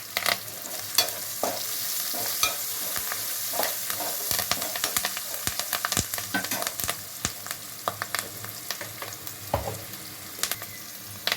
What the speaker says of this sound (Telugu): పచ్చిమిర్చి వేసి వేయించాలి. కరివేపాకు వేసుకోవాలి.